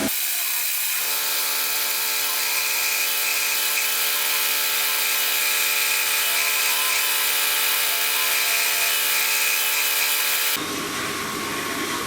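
Metal lathe turning and cutting down a flywheel for an oscillating steam engine, a steady high whining hum with a constant buzz that runs alone and ends abruptly near the close.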